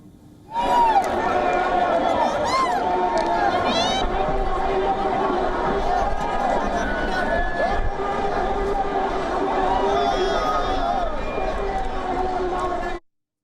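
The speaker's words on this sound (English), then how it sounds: "A massive crowd stormed Sri Lanka's presidential palace and the secretariat." A massive crowd storming Sri Lanka's presidential palace: a dense, steady roar of many voices shouting and chanting, with whistles and rising cries layered over continuous hubbub, loud and sustained until it cuts off.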